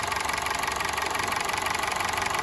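A gray Honda City running on CNG idles with a stumbling engine fault, a steady loud mechanical drone with a slight uneven pulse, heard close up with no talking.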